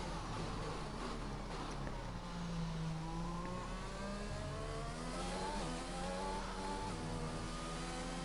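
An F1 2021 race car on an onboard lap at the Portugal circuit in the video game, its engine note climbing and dropping through gear changes as it accelerates, steady and fairly quiet with no talk.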